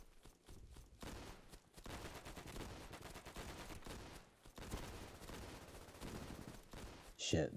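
Sustained battlefield gunfire from the video game Easy Red 2, dense volleys of rifle and machine-gun shots rolling on without pause, with fighting both nearby and distant, under voices talking.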